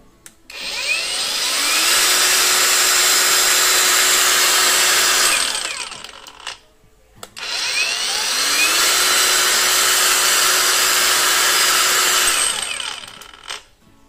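An 18-volt Xenon cordless brushless angle grinder whines at high speed in two long runs, each spinning up, holding a steady loud tone, then winding down, with a short pause between.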